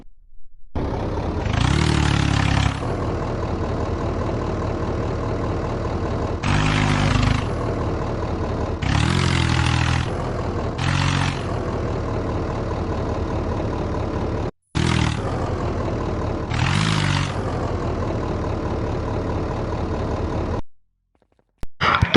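Indo Farm tractor engine in an Indian desi life simulator game: repeated bursts of rough, clattering diesel revving separated by steadier idling, close and fairly loud, with brief cutouts near the end.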